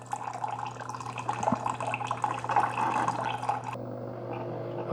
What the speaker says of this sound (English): I've got water coming out